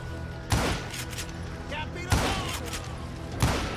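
Three sharp, booming gunshots from the Western shooter Call of Juarez: Gunslinger, spaced about a second and a half apart, each with a ringing tail, over a steady game-ambience bed.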